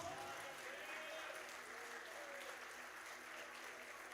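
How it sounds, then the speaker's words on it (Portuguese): Church congregation applauding during a Portuguese-language worship service, a steady, dense wash of clapping that holds at an even level throughout, with faint voices mixed in. "Você pode aplaudir a Jesus bem forte?"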